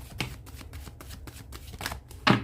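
Tarot cards are shuffled by hand up close, a quick run of soft riffling flicks in an irregular rhythm, ending with a louder snap as the deck is squared.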